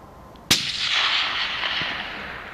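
A single loud, close rifle shot during a hunt, a sharp crack followed by a long rolling echo that fades slowly across open ground.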